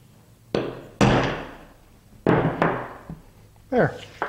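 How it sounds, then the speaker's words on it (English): A metal punch tapped on wood to mark a hole center for a stegosaurus woodworking project gives a few sharp knocks in an irregular rhythm, close and fairly loud, with a brief voice near the end. "then we're going to go and find a punch"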